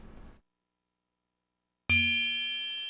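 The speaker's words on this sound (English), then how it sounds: "No need to keep ringing the bell." A service bell at a post office in the video game Santa's Secret Valley strikes once with a bright, ringing ding that lingers and slowly fades, after a moment of silence that follows a short stretch of game sound.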